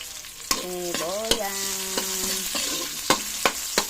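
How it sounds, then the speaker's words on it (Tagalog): Onions and garlic sauté in a pan with a steady sizzle, punctuated by sharp taps and scrapes of a spoon being stirred, close up. A brief tonal squeak rises in the middle. "Tapos ininix natin guys yung sibuyas."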